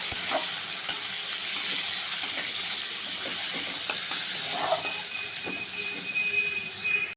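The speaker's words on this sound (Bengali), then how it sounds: "পেঁয়াজটা একটু লাল লাল করে ভেজে নেবো আগে।" Chopped onions sizzling in hot oil in a wok while being stirred, a continuous close crackle broken by occasional scrapes of a spatula, with no voices.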